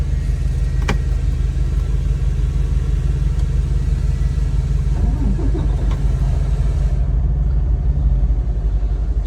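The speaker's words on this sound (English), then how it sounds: "Let me get this truck cranked up." A semi truck's diesel engine idles in the cold with a loud, steady low rumble close by, a brief click early on and the note easing slightly near the end, with no voices.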